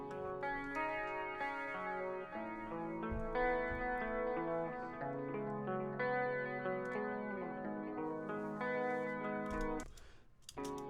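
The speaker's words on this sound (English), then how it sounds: "that picking guitar, this is what it sounds like, completely raw" Picked electric guitar running straight through an effects pedal with reverb, delay and compression, sustained ringing melodic notes layered over one another, close and loud, ending with a brief scrape of noise.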